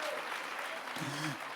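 A church congregation applauds in a brief, steady wash of clapping, with a voice speaking or singing over it near the end.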